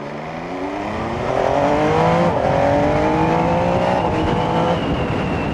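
An MV Agusta Stradale super naked motorcycle pulls hard under acceleration, its engine note climbing through rising harmonics with a brief dip for a gear change, loud and close with steady wind rush.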